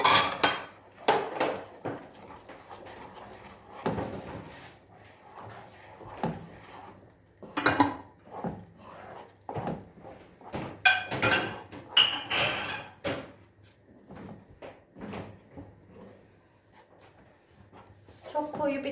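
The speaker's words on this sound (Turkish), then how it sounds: "Biraz karıştıralım." A spoon stirs semolina halva in a pot on a stove turned to its lowest setting, giving scattered scraping and clinking knocks against the metal. Quiet talk runs underneath at times.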